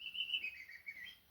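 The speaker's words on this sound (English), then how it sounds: "if you listen very carefully, you will hear my chirping bird sounds right here" A bird chirps in a continuous thin, high warble, fairly faint and alone against a quiet background.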